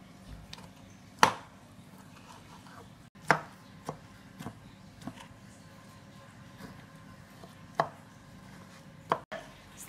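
Tomatoes chopped by hand with a knife on a board for lasagna, a handful of crisp, separate knife strikes spaced irregularly, close and moderately loud against a quiet room.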